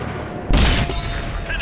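Tank cannon fire in World of Tanks on Xbox One, a single sharp loud blast with a short rumbling tail, briefly preceded by low background noise.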